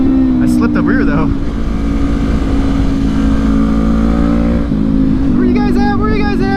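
A Honda CB500X motorcycle engine holding high revs in third gear on an Oregon road, a loud sustained droning whine under heavy wind rush, with a rider talking over it.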